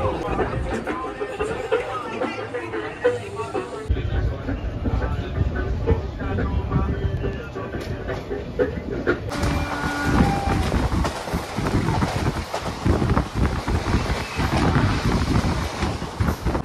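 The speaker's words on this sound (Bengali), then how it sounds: "আজিমগঞ্জ রেলওয়ে স্টেশন থেকে ঠিক 8:10-এ আমাদের ট্রেন রওনা দিল বোলপুর শান্তিনিকেতনের উদ্দেশ্যে" Passenger train leaving Azimganj railway station for Bolpur Santiniketan, its steady rolling rumble and rattle of carriages on the rails continuing throughout and growing brighter and noisier partway through.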